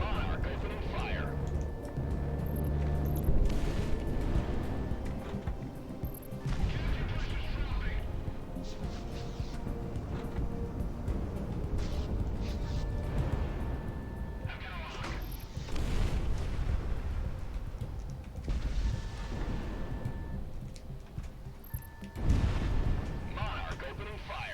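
Gunfire and heavy cannon bursts in the flight combat game Project Wingman, repeated booming shots and rumbling blasts recurring throughout, with radio chatter voices talking over the action.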